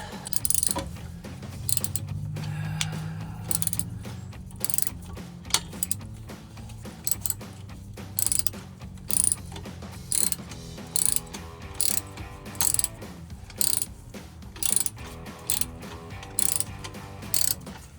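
Socket ratchet clicking on axle-back exhaust bolts of a 2005-2010 V6 Mustang, fitted with a 5/8 socket; a steady run of close, crisp ratcheting clicks, then short separate bursts of turning with brief pauses between them.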